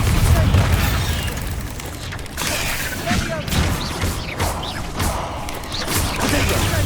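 Bombarda and Confringo spell blasts in Hogwarts Legacy: a dense run of booming explosions and crashing impacts, with rumbling debris and a voice over the clamour.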